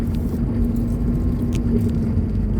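A noisy car engine idles with a loud, steady low rumble and a constant droning hum, heard close and continuous without pauses.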